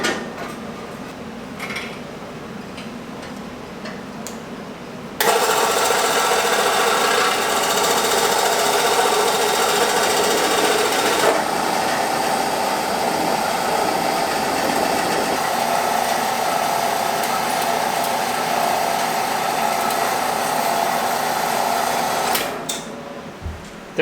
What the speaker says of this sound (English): we're gonna use our bandsaw because it's really nice to use